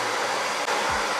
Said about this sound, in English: Take your hair dryer, take the brush, and you're going to blow dry it up slightly to the side